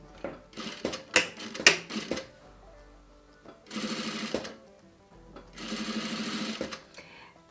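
A sewing machine stitches boning channels into a corset bodice in two steady whirring runs of about a second each, preceded by several light clicks and taps of handling fabric and parts.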